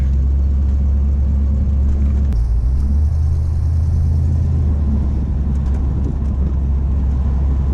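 A 1985 Mustang LX 5.0 convertible drives on a hot day with a rough idle, its V8 rumbling loud and close in a deep, constant drone that dips briefly as it shifts before settling back into a steady roar.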